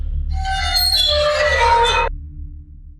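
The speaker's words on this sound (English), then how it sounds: "I'll drop in a waterphone sample" A waterphone sample for dark ambient music gives eerie, metallic bowed tones with shimmering overtones that sustain for about two seconds, then cut off abruptly, leaving a low hum.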